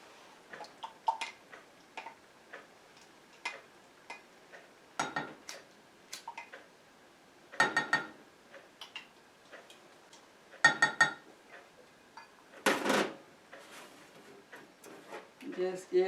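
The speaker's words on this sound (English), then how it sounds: "I need to whip this up and get all this to dissolve" Whisk clinks repeatedly against a bowl while mayonnaise salad dressing with dissolved sugar is whipped for a broccoli cranberry salad, rapid irregular ticking taps close up, with a voice talking in places between them.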